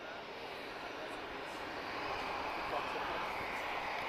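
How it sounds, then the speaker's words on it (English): Swiss Airbus A220 jet at Lisbon Airport, a steady broadband engine roar that holds loud and even throughout, swelling slightly in the second half as the jet runs up for departure. "there's a Swiss A220 about to go soon."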